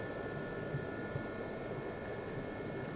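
SA342M Gazelle helicopter in the DCS flight simulator, cruising at about 120 km/h: a steady, even turbine and rotor drone holding at constant level throughout, with no talk over it.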